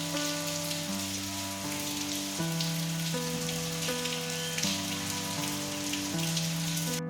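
Steady, even rainfall outside a house in late morning after a sudden change from hot sunshine, a continuous dense patter of drops on surfaces with no pauses or voices.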